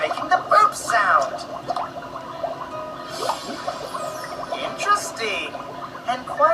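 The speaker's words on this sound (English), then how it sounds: "The swamp water is making the burp sound." Cartoon swamp water gurgling and bubbling with burp-like glugs, a busy stretch of wet bursts running under and between voices of characters talking.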